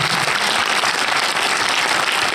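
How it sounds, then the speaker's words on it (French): Audience applause at a film premiere in a theatre, dense and loud continuous clapping from a large crowd, steady throughout. "je vous demande d'applaudir"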